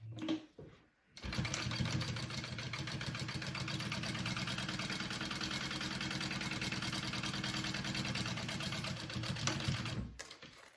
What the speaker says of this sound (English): we're just going to baste that pocket shut real quick